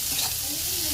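Chopped onion frying in oil with mustard seeds and cumin, a steady close sizzle with a soft stir, brief and continuous with no talk.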